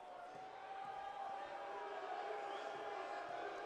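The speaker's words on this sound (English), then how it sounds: "Crowd getting loud" Basketball arena crowd at a men's college game between Carthage and Illinois Wesleyan swelling into a sustained, distant roar during free throws, steady and building slightly.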